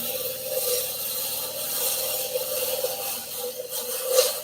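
Wood turning on a lathe, with the bevel-guided tool cutting away the outside of a slightly oval, out-of-round blank at a turners' club meeting; a steady, continuous rasping scrape that swells and fades slightly throughout, with no talk.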